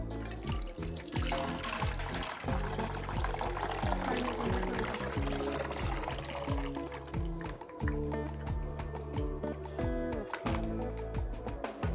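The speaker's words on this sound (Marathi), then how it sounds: "आता गोळ विरघळून झालेलं आहे गाळून घेऊ ह्याला" Dissolved jaggery liquid being poured through a strainer, a steady close trickle and gurgle of syrup that runs continuously with rising and falling pitch as the vessel drains.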